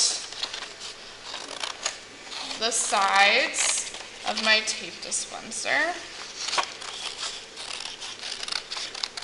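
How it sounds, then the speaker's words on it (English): Scissors snip and crunch through paper in short rustling strokes, cutting out parts for a maquette, close up, while a person talks over the cutting. "I'm going to take my scissors and I'm going to cut out"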